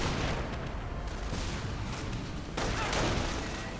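Hummel self-propelled artillery firing in a World War II real-time strategy game, a few heavy booming shots rumbling over the continuous battlefield din.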